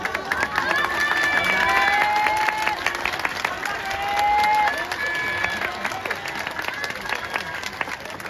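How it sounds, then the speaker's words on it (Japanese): Football supporters in a stadium at a J-League match between Kashiwa Reysol and Gamba Osaka give warm, sustained applause from a large crowd, with whistles and voices carrying over the steady clapping. "たくさんのサポーターから温かい拍手が送られました。"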